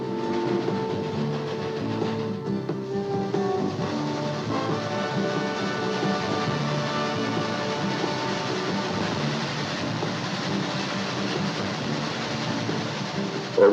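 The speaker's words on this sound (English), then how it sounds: "The people on this Union Pacific Railroad think that is their locomotive." Union Pacific 844 steam locomotive and its train rolling along the rails, a steady continuous rumble with faint clickety-clack, heard alone with no voices.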